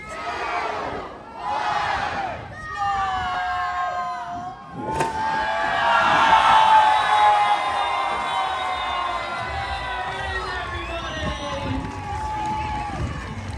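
A crowd cheers and yells loudly at a belly flop contest by the pool on Royal Caribbean's Liberty of the Seas cruise ship, with a sharp splash-like crack midway and sustained whooping after it, while an announcer talks at first.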